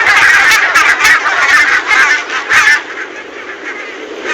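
A flock of geese honks over and over, a loud, dense overlapping chorus of calls on the Inishkea Islands in County Mayo, Ireland, then it drops to a quieter steady wash of sound.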